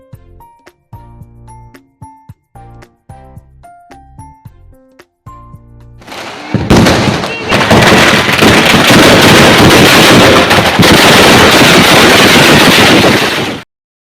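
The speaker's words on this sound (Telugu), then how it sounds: "ఈ క్రాకర్స్ కాల్చిన తర్వాత ఇంకా రావణాసుని అయితే కాల్వడం స్టార్ట్ చేస్తున్నారనమాట." Firecrackers burst during the Dussehra burning of a Ravana effigy, starting as a dense, loud, nonstop crackling roar that lasts about seven seconds, after a stretch of rhythmic tonal music.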